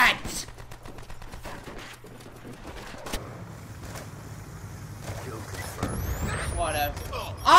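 Video game gunfire comes as scattered sharp shots and short bursts over a busy background, with louder volleys near the end. A player's voice is heard only faintly, if at all.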